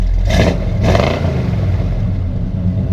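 A 1976 Chevy C20 Cheyenne Camper Special truck, cold, revs its engine close by, with two quick throttle blips swelling over a steady idle rumble.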